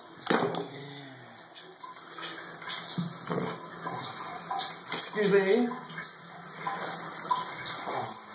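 Leftover water drains and splashes from a Delta Monitor tub-shower faucet during a leak repair, an irregular trickling and gushing close by, with a brief spoken voice over it.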